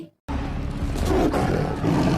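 A loud tiger roar effect from a comedic recreation of an RRR animal scene bursts in after a brief silence and rumbles on, growling and sustained, close and full.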